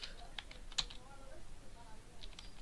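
A few scattered computer keyboard keystrokes, fairly faint and irregular, with one sharper click near the start and a short burst of taps near the end, over a quiet room hiss.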